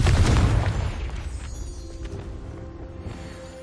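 A Confringo blasting spell goes off in Hogwarts Legacy with a loud booming explosion at the start, then a rumbling tail that fades over the next few seconds.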